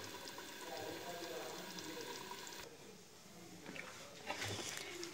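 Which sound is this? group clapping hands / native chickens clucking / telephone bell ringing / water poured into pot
water poured into pot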